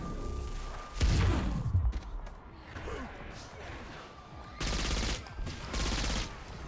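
Weapon fire from Saints Row 4 bursts out in loud, rapid volleys at the start and again near the end, with crashes and game noise in between.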